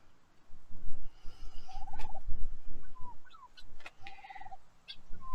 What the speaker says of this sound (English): We actually keep turkeys because my husband just loves them.